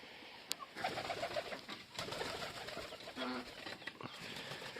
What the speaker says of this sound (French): Je vous montre un petit peu les pigeons.